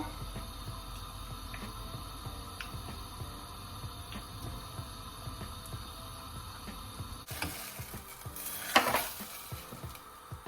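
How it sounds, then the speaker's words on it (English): Butter melting in a saucepan over medium heat, giving a faint, steady sizzle and hum, followed near the end by louder clatter and a burst of crackling. "in the saucepan, we're going to put it on a medium heat, and we're going to be adding our butter"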